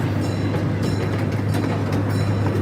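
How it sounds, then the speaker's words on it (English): An old-fashioned park train, like a zoo train, rolls steadily along its rails with a constant low engine drone and faint wheel clatter, close by and unbroken for the whole stretch. "Kind of like an old-fashioned train like you would see at a zoo."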